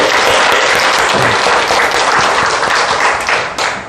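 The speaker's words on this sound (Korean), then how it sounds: "다시 한번 격려 박수 한번 해주시죠" A church congregation at a Sunday worship service breaks into loud, dense applause of encouragement, sustained evenly throughout and fading slightly at the end.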